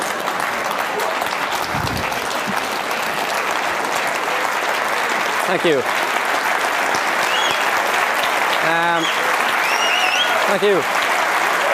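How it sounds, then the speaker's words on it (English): Steady, loud audience applause fills a magic show, clapping continuing throughout with a performer briefly speaking thanks over it. "give her a round of applause"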